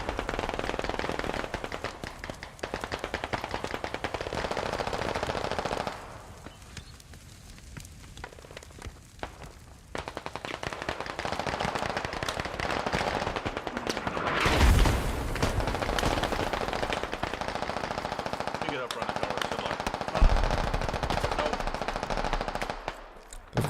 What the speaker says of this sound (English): I'm gonna get a machine gun set up to fire straight down this alleyway here